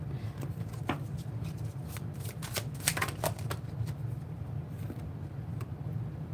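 Tarot cards shuffled for a reading, a quiet run of crisp riffling flicks and soft slaps close to the microphone over a low background hum, with no talking.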